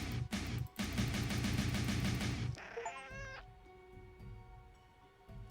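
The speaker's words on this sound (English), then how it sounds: "The cactus meowed." Video game cactus meowing like a cat, loud dense meows and caterwauling in a rapid pulsing burst, followed by a brief chirpy flourish and then quiet in-game ambience.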